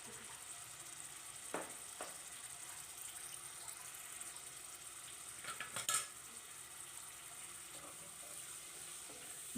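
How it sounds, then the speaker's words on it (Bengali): Spice paste for a tomato pabda fish curry frying with a little water, a quiet steady sizzle with scraping stir strokes and a couple of louder clatters, no talk. "তারপর আমি একটু জল অ্যাড করে মশলাটাকে ভালো করে ভেজে নিব।"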